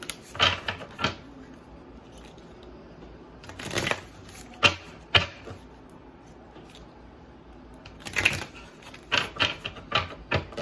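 Tarot cards are shuffled in repeated riffling bursts, a few quick flurries separated by pauses, close and crisp.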